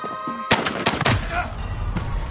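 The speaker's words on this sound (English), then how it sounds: "We're getting shot from both sides." Video game gunfire erupts in several sharp, loud bursts, close and clustered, with brief rattling volleys between them, while a faint voice sits underneath at the start.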